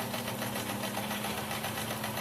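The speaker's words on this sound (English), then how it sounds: "I'm just going to run the stitching all the way around" A sewing machine stitches steadily around the edge of a fabric face mask, giving an even, fast mechanical whirr with a regular rhythmic pulse that holds close and constant throughout, with no talking.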